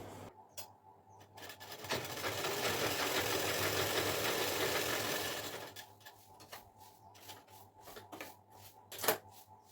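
A sewing machine stitches a neckline onto the lining of a slit top, running steadily for a few seconds with a mechanical whir, then stopping into quieter handling clicks and taps.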